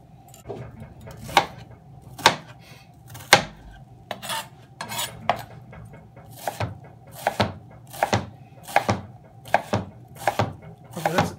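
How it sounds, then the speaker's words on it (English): Onions are chopped with a knife on a board: about fifteen crisp, close strikes in an uneven rhythm, alone with no voices. "why don't you chop the onions a little bit?"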